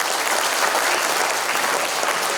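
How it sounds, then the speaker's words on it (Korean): Steady, dense applause from a seated audience at a book-launch event, even and continuous throughout with no voices on top. "박수 좀 부탁드리겠습니다."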